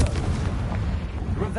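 A dense, booming blast rumbles through spell combat in Hogwarts Legacy on PS5, a heavy low explosion filling the short moment with a voice calling out over it.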